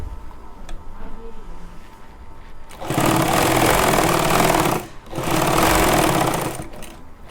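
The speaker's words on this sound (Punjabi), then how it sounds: "ਦੇਖੋ ਇਸ ਤਰੀਕੇ ਨਾਲ ਟਾਂਕਾ ਮਾਰ ਲੈਣਾ ਇਹਦੇ ਉੱਤੇ" Sewing machine stitching a pocket onto a pajama, a loud close whirring run that pauses briefly and then resumes, with no talk over it.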